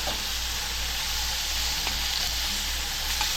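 Speckled trout fillets frying in a pan of hot oil, a loud, steady, close-up sizzle and crackle with a few faint pops, no voices.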